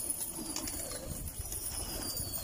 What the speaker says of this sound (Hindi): एक कबूतर ये पकड़ा है,